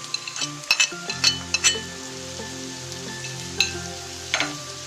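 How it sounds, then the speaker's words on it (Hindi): Minced meat keema with dried chillies, turmeric and salt fries in a pan, a soft steady sizzle under repeated clinks and scrapes of a spoon stirring against the metal. "और 2 मिनट तक बस इसको फ्राई करूंगी"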